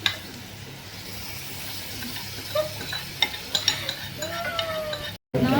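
Carrot halwa being stirred in a pan over a high flame, a soft continuous sizzle with intermittent scraping and clinking of the spoon that grows busier toward the end.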